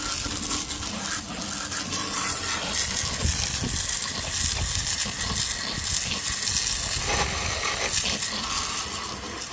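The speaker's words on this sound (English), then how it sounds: "I usually just use a little garden hose on the jet setting." Steady, forceful spray of water from a garden hose on a jet setting, washing down a Toro lawn mower, hissing and splashing continuously at close range with no voices.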